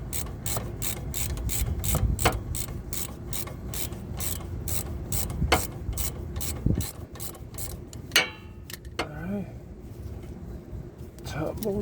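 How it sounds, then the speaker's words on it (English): Rapid, steady ratchet clicks run for several seconds while a caliper bolt is tightened on the front brakes of a 2004 Dodge Dakota 4.7, then stop near the end as a voice and shuffling handling noises take over. "Go back to our ratchet."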